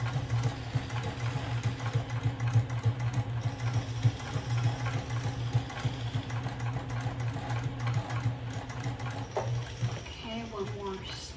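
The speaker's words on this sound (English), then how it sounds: "I am going to turn it and then continue sewing." A sewing machine stitches a fabric shoulder bag, its steady mechanical hum running continuously and fairly close with slight rhythmic pulsing, only briefly slowing near the end as the fabric is turned.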